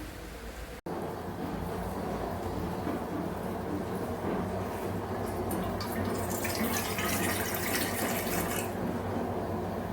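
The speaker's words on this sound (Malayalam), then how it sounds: "ഒരു ചെറിയ കപ്പിന് ഒരു 3/4 കപ്പ് വെള്ളം ഒഴിച്ചിട്ടുണ്ട്" Water poured into a small cup in a home kitchen while a banana and jaggery sweet is being prepared, giving a steady, close rushing trickle that runs nearly the whole time and brightens toward the end.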